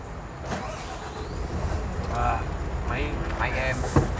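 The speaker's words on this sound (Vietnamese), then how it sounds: "Rồi anh sẽ tiến hành đờ máy cho hai cha con nghe tiếng máy của xe." A car engine running with a steady low rumble throughout, with people talking nearby over it.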